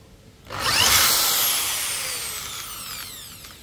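A DCK KJ electric drill bores a hole. The motor whines up sharply after a short quiet moment, peaks loud and close, then holds a high, slowly easing whir as the bit cuts through.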